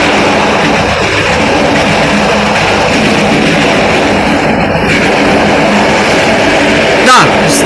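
A passenger train runs along Romania's CFR main line 300 between Oradea and Aleșd, giving a steady loud rumble of wheels and cabin noise throughout, with a brief sharper squeal or rush near the end.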